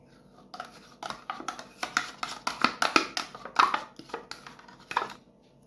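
Chocolate yogurt stirred into a light, airy cake batter in a bowl, a run of quick clattering strokes of a utensil against the bowl, close and fairly quiet, with no talk over it.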